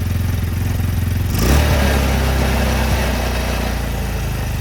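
Cheap secondhand quad ATV with a freshly cleaned carburetor, running rough and smoking, idling loud and close with a steady throbbing putter and a brief surge partway through.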